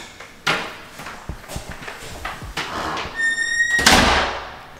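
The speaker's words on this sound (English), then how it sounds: "I'll lock the door." A house door is closed and locked on moving day. Several scattered knocks and clunks build to a loud thud, then a brief metallic ring of the lock, all close by with no talking.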